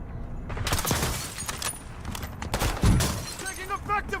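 Video game gunfire in a military shooter, with bursts of rapid shots and sharp impacts crackling close by, mixed with game sounds.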